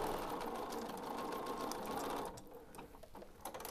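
A sewing machine stitches fabric for a doll, a steady close whirring run for about two seconds that then drops to softer, slower stitching.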